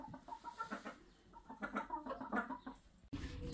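Hens cluck close by on a rain-muddied egg farm, a busy run of short, overlapping clucks and murmurs, followed by a brief burst of rustling at the end.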